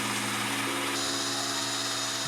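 A power drill with a sanding pad grinds down a plastic car headlight, giving a steady, continuous whine that stays loud and unbroken throughout.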